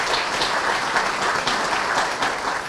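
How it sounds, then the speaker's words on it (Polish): An audience at a Ceramics Museum event in Bolesławiec applauds the museum staff with dense, continuous clapping that sounds fairly close and steady throughout, with no voices over it. "Ja bardzo Państwa proszę teraz o wielkie brawa dla wszystkich pracowników Muzeum Ceramiki."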